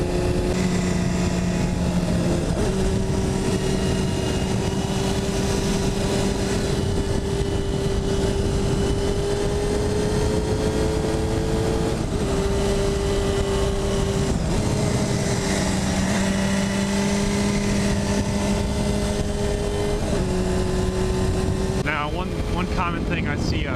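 A four-cylinder 250cc motorcycle revving high while being ridden, its whine stepping up and down through gear changes under constant loud wind noise.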